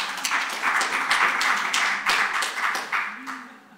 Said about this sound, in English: thank you for the applause, by the way